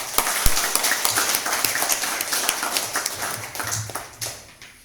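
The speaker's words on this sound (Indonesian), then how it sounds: "Mana tepuk tanganmu buat Tuhan Yesus?" A church congregation claps their hands together during a worship service, a dense, lively burst of clapping that carries on for several seconds before tapering off.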